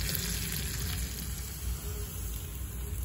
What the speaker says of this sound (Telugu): స్పూన్ బటర్ వేసి అందులో ఎండుమిర్చి వేసి కొంచెం గార్లిక్ వేసుకొని ఫ్రై చేసుకుందాం.